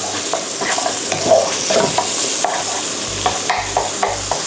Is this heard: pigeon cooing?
no